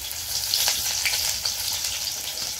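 Lentil fritters (dal bora) frying in hot oil make a dense, close, continuous sizzle with small bubbling crackles, and no voices over it.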